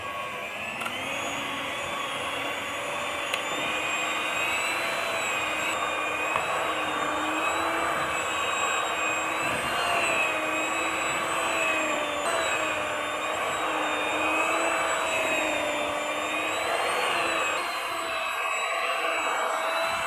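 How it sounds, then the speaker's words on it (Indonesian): An electric mixer kneads sweet chocolate-filled bread dough, its motor giving a loud, steady whine that runs unbroken and alone throughout. "Selanjutnya saya aduk pakai mixer saja biar lebih gampang dan cepat sampai adonan kalis."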